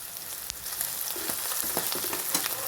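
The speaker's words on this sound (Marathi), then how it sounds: "त्याला व्यवस्थित तेलामध्ये परतून घ्यायचं मग त्याच्यावरती कांदा टमॅटो भाजून घ्यायचा" Onion and tomato fry in hot oil, a steady loud sizzle with irregular crackles and pops as the pan is stirred, with no voices.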